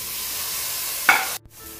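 Chopped tomatoes drop into onions frying in a pressure cooker, giving a short hiss and splash over a soft background sizzle before everything cuts off.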